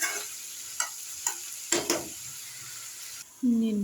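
Broad beans being stirred with fried onion and salt in a pan, a soft sizzle running throughout with several light scraping strokes of the spoon, followed by a louder clatter near the end.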